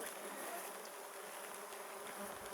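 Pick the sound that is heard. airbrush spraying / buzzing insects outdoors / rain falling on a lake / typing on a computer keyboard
buzzing insects outdoors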